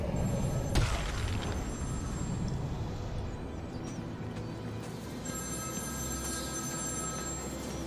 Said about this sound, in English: Hello, Joker's phone